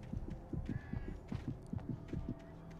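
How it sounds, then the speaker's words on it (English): Heartbeat pounding in the ears in the video game Alan Wake Remastered, a steady series of low, thudding double beats repeating throughout at moderate loudness, with faint background ambience and no talk. "Didn't need to hear my heartbeat in my ears again."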